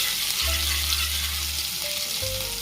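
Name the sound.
stirring ginger paste into frying mixture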